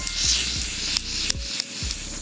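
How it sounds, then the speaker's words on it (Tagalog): Dazzle Me airbrush spray blush is misted from its can in several short, close hissing bursts with faint clicks between them, with no talking. "This is the Dazzle Me Airbrush Spray Blush na bagong padala lang sa akin."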